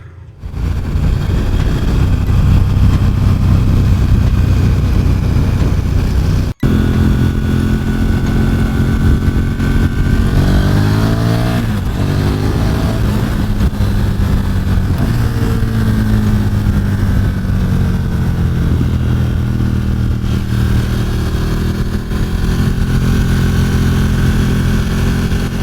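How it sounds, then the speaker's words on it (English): A KTM Super Duke motorcycle engine idles loud and close, then revs up and down in a few rising and falling sweeps before settling back to a steady idle. "now this is the KTM Superduke. Finally I get on this bike"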